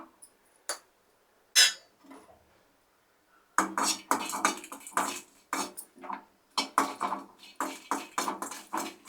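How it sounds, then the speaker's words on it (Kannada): Dry red chillies roast in a pan for chutney powder as a utensil stirs them, giving sharp metallic clinks and scrapes. A few sparse knocks come first, then a quicker, irregular run of clatter. "ಇವಾಗ ಚಟ್ನಿ ಪುಡಿಗೆ ಒಣಮೆಣಸಿನ್ಕಾಯಿ ಹುರ್ಕೊತಾ ಇದ್ದೀನಿ"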